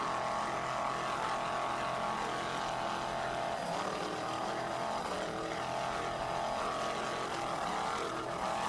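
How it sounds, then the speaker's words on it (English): Offshore racing powerboat engines held at full throttle during the 1993 Virginia Beach Offshore Grand Prix: a loud, continuous, dense engine roar that stays steady and close throughout, with no talk over it. "Nice job on the throttle by Scott Hold'em there. Just listen."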